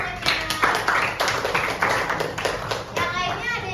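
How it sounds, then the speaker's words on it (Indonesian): A classroom of pupils claps in quick, uneven bursts, close and lively, with children's voices chattering over the clapping. "Oke, tepuk tangan semuanya."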